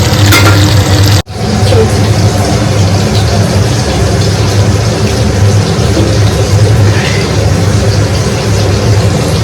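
Vegetables such as ridge gourd fry in a pan with a loud, continuous sizzling hiss, broken by one brief gap near the start, over a low steady hum.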